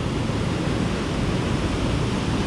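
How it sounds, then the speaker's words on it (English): Steady, loud rushing water fills the scene, a broad continuous roar from a waterfall and the discharge of three running generators at Center Hill Dam, heard close with no breaks. "a waterfall in the corner over here"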